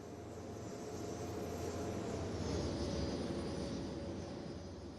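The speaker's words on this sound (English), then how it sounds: "Hearing the planes flying overhead." Airplanes in the Cities: Skylines city-building game drone steadily overhead, a continuous broad engine roar with a faint high whine that holds at an even level throughout.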